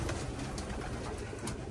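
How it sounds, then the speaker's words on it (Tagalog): Racing pigeons coo softly in their loft, a quiet, low, murmuring cooing under faint background noise, no talk. "Mga ibon natin, oh, may mga sarili-sarili na silang territory."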